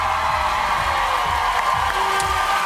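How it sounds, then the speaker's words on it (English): A studio audience at The X Factor UK results show cheers and whoops in a dense, continuous roar of crowd noise that fills the whole moment. "Stop your booing, start your cheering."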